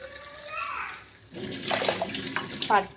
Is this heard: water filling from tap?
yes